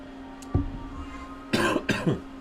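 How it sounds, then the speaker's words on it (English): A man coughs during a live fantasy football Q&A stream: one short cough, then a pause and two harsher coughs in quick succession, close to the microphone with no talk. "I will be coughing."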